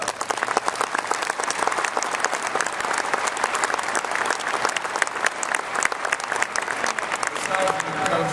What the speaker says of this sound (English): Let's give a round of applause for Barbara Schaus.